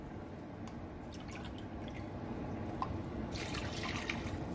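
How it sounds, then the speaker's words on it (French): A glass of water is poured into a pan in a home kitchen for a creamy mustard sauce, with soft trickles and drips, then a brighter splashing pour near the end, fairly faint and with no talk. "Et je prends le même verre, je vais le remplir 2 fois d'eau."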